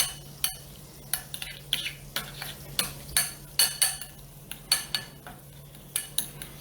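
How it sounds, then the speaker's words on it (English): A spoon stirs a salt and nutmeg mixture in a bowl, giving a quiet, steady run of light clinks and scrapes at roughly even intervals, close up in a home kitchen. "So I'm going to stir this up."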